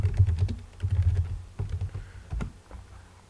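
Rapid keystrokes on a computer keyboard, clattering in dense bursts with brief pauses, close and fairly loud, with no talking.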